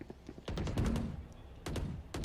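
Gunfire from the video game Valorant during a pro esports match, a few sharp broadband shots in quick bursts over constant game-mix background.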